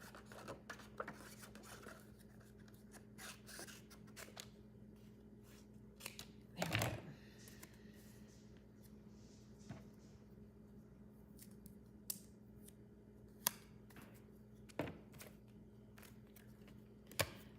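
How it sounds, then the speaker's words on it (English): Scissors cutting paper into strips at a crafting desk, faint snips and rustles spread unevenly over a quiet room tone, with a louder paper rustle near the middle, no voices. "Cut it in strips"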